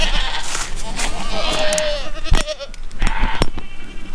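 Goats bleat on a farm in a few short wavering calls, close and fairly loud, mixed with rustling, knocks and bursts of nearby talk.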